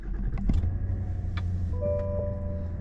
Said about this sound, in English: We'll actually start the truck and you can see.